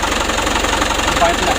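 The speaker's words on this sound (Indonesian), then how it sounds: "digas pelan, agak meretet sedikit, ada goyang sedikit" Diesel engine fitted with a Bosch injection pump, revved slowly with a slight rattle and shake, giving a steady close-up knocking drone with a loud, even rhythm throughout.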